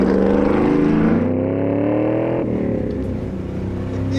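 A 7.0-litre V8 in a Ruffian Mustang runs close and loud, holding a steady throbbing drone with two shifts in engine note as it drives.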